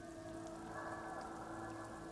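Rain falling on wooden planks among sand dunes in the video game Disco Elysium, a soft continuous patter under a steady low ambient hum, faint and even throughout.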